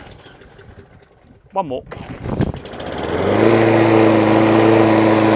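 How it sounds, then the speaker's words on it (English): A Hayter Ranger 53 lawn mower that won't reach full revs and needs a new pull cord: after a brief spoken word and a yank, the engine catches and climbs to a loud, steady full-throttle drone. "We'll put it onto full throttle. Now that should rev at quite a good pace now."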